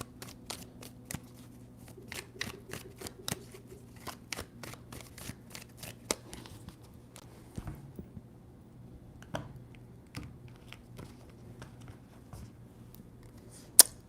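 Quiet, close tarot card shuffling with a long series of crisp clicks and snaps at an uneven pace, some bunched together, no talking.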